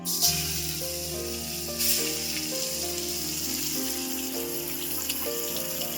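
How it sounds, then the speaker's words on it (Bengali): Onions frying in hot oil with bay leaf and whole cumin for a mutton curry, a loud steady sizzle with crackling bursts near the start and again around two seconds, alone without speech. "যে পেঁয়াজগুলো বাকি যেগুলো ছিল একটু আমি তেলে দিয়ে দিচ্ছি।"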